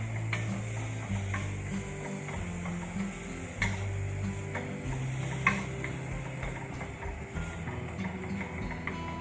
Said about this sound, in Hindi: प्याज को बहुत ज्यादा ब्राउन नहीं करना है, मतलब गोल्डन ब्राउन तक हमने इसको भूनना है।